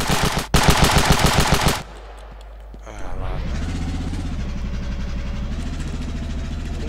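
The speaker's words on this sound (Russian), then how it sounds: "Зачем ты в меня стреляешь?" Rapid automatic gunfire in the video game Ravenfield bursts loud and close for under two seconds, then stops abruptly. A vehicle engine hums steadily and rises slightly in pitch afterward.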